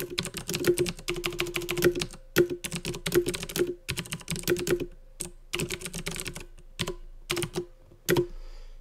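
Quick, uneven bursts of keystrokes on a Mac computer keyboard as a sentence is typed in a word processor, crisp close clicks with short pauses between words.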